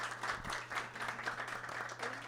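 An audience at a book presentation claps continuously, a dense, even patter of many hands filling the room.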